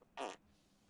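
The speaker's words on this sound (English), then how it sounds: "That was a random fart." During an Among Us livestream, a single short, loud fart bursts out and is followed by near quiet.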